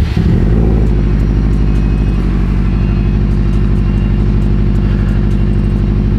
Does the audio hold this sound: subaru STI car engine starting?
yes